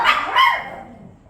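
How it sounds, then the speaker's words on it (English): A single dog gives two quick, close barks in a row that trail off into a softer whine. "Alright, dog, settle down."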